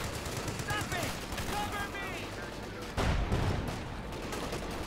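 A .50 caliber machine gun fires in a World War II strategy game match, heard as rapid bursts of gunfire with a heavier thump partway through, mixed under continuous commentary.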